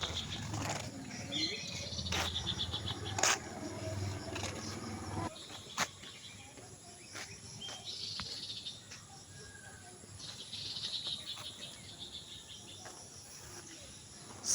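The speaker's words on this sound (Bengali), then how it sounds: "কত সুন্দর পাখি ডাকে।" Early-morning outdoor ambience with scattered bird calls and chirps, a steady insect or cricket buzz underneath, and a few wing flaps, all fairly faint and distant.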